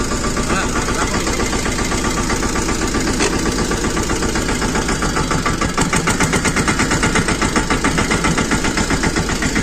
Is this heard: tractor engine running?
yes